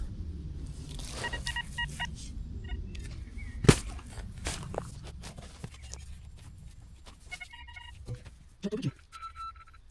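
Short, high electronic tones from a metal detector chirp several times over faint rustling and soft handling noises, with a brief louder clunk partway through, in a meadow.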